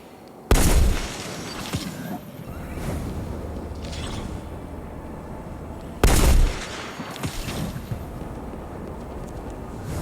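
Two sharp bursts of gunfire ring out in the sci-fi shooter Destiny: Rising, each a loud crack with a rumbling tail about five seconds apart, over steady game ambience.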